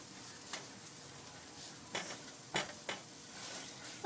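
Enchilada sauce ingredients sizzle and fry steadily in a pan, a constant soft crackle broken by a few sharper scrapes and stirs of a utensil against the pan.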